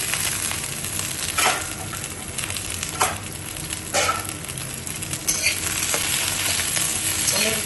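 Sliced paneer and green chillies frying in a dry pan with no oil, giving a continuous loud sizzle broken by occasional scraping stirs and faint utensil clinks.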